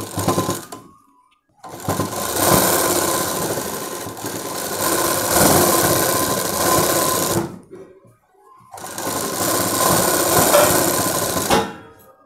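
An electric sewing machine stitching a Punjabi dress top, loud steady whirring runs of several seconds each, broken by short silent stops between seams.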